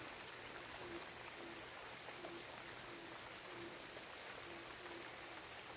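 Water sprays steadily onto kidney bean plants in a garden, a continuous faint hiss with a soft pattering texture and no talk.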